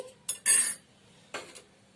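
A spoon clinks sharply against a small bowl a few times while serving hibiscus and tulsi decoction, bright metallic taps with a short pause before a final clink.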